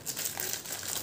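Parle biscuits going into a blender for a shake make a continuous close crinkling, crumpling rustle, busy and papery throughout the short moment, with no voices.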